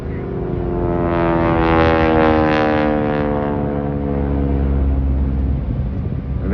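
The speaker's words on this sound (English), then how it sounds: "This aircraft is a genuine 1942 aircraft." A genuine 1942 training aircraft at the Blackpool air show sounds its heavy piston engine as a loud, steady drone with a rising and falling tone, filling the scene without talk.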